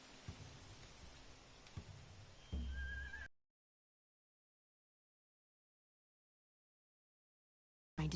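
Hooves clop under a soft patter in the video game Telltale's The Walking Dead: The Final Season, then a horse lets out a short, loud whinny before everything cuts to silence.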